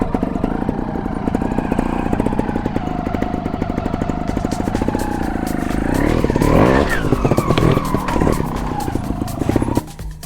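A trial motorcycle revs hard in second gear while climbing over rocks, a close, loud, rapid engine buzz that rises in pitch as it accelerates, then a sharp throttle change near the end.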